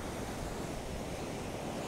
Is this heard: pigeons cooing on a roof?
no